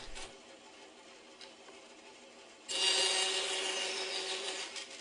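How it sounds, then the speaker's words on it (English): Bandsaw cutting the ends of wooden tenons for a small table, a steady hum that jumps into a louder, brighter cutting whine partway through and holds to the end, with no talk. "finish that off on the bandsaw"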